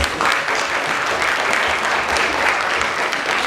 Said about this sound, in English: please give the inductees one last round of applause